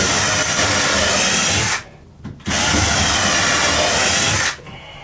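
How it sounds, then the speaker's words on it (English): A power drill bores pilot holes into scrap wood, whining loudly and close in two long bursts separated by a short pause and a brief blip. "That's one of the other advantages of pre-drilling the holes, especially if you've got wood with knots"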